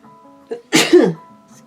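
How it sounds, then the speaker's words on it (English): A single sharp sneeze bursts out close to the microphone, brief and loud against an otherwise quiet background. "I had to sneeze"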